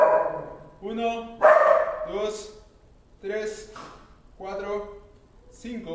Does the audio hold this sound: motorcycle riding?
no